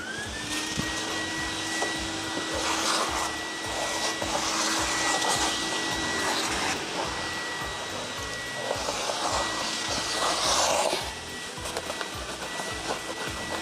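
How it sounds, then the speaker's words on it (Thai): A vacuum cleaner runs inside a Toyota Vigo pickup, sucking up dust with a steady loud whining roar whose pitch and airflow rise and fall as the nozzle moves about. "แล้วก็ดูดฝุ่นดูดอะไรให้เรียบร้อย"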